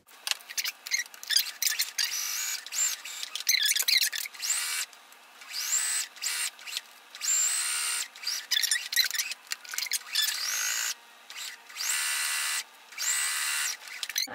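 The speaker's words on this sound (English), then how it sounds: "So we are ready to sew this together." A sewing machine stitches a seam on a fabric book sleeve, running in short bursts of rapid mechanical whirring separated by brief pauses, close and fairly quiet with no talking.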